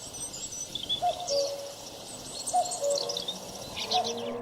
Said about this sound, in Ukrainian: З нетерпінням наші предки чекали кування зозулі.